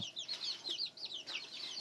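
Chicks and young chickens in an outdoor run make dense, high-pitched cheeping and clucking calls that overlap continuously, close by and steady.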